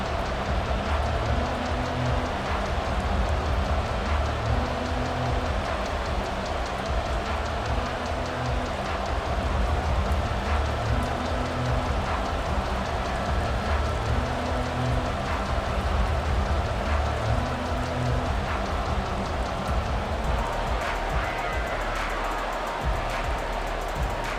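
Steady rain falling on a rainy Sunday afternoon football game in Madden 24 between Detroit and Tampa, a constant hiss of drops on the surface, even and unbroken over a low, faint background.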